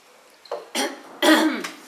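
Several short throat clearings in close succession, fairly loud and near, with brief pauses between bursts and no talk.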